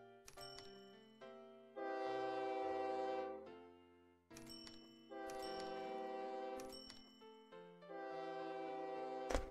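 Electronic game sounds from the train simulation OpenTTD: layered tonal chimes and sustained synthetic notes in several bursts, with sharp clicks between them, with no voices.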